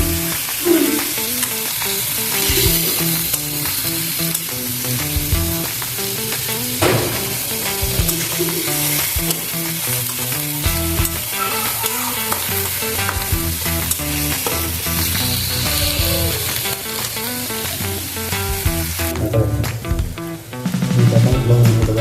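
Ground spice paste sizzles steadily in hot oil in a pan for beef tripe bhuna, a dense continuous frying hiss with occasional stirring scrapes, close and loud, with no talking.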